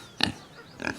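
A pig gives two short, loud oinks about half a second apart, heard close and alone.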